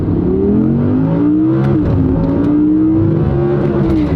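An Audi R8 V10 Performance in track mode revs hard, a loud, close engine note climbing and dipping in pitch with smooth, rising harmonics and no talk over it.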